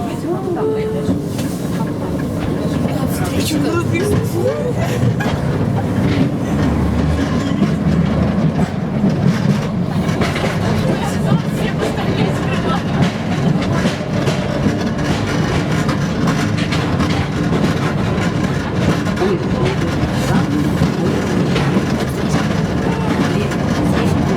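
A narrow-gauge underground train in tunnels beneath New Athos rumbles steadily along the track with a continuous low roar and faint rhythmic clatter, close and loud throughout, with muffled voices now and then.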